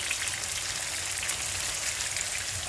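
Fish frying in hot oil in a home kitchen, a steady, dense crackle and sizzle heard close up and unbroken throughout, with no talk.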